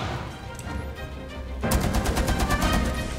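Rapid gunfire in Rainbow Six Siege, a dense burst of loud, close shots in quick rhythmic succession following a stretch of quieter game noise.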